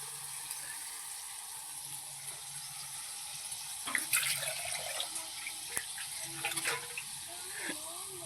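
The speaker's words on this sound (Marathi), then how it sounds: "एक ग्लास भरून पाणी ओतलंय मी फक्त" A low steady hum, then a glassful of water splashes briefly into a pan of fish curry with a few small drips and clinks.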